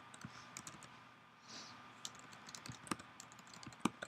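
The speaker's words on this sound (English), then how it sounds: "I know how to press buttons on my keyboard." Someone types on a computer keyboard in irregular, quiet clicks and taps over a low room hum, with a few louder key presses.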